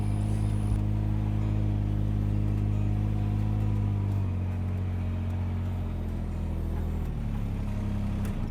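A motor vehicle engine runs close by in a steady, loud drone, its pitch shifting slightly about halfway through, with no voices.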